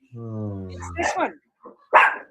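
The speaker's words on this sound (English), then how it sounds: "The dogs are barking." Dogs sound off outside with a drawn-out howl-like whine that breaks into a couple of sharp, close barks separated by short pauses.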